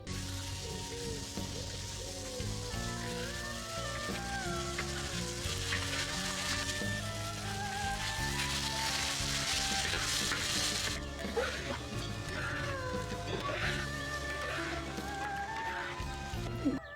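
Potatoes fry in a pot with ginger and garlic, cooked outdoors in a village, making a continuous crackling sizzle that sits under louder melodic background music.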